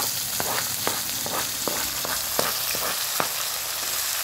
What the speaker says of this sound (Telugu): ఆయిల్ అయితే హీట్ అయిపోయింది, అందులో నేను ముందుగా కడిగి పెట్టుకున్న పచ్చిమిర్చి వేసుకుంటున్నాను